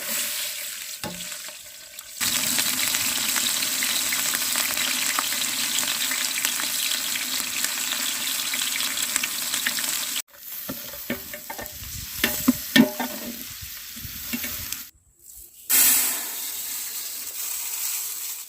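Onions and green chilies frying in cooking oil for duck biryani, a loud continuous sizzle broken by brief pauses, then scraping and clanks of a ladle against the pan.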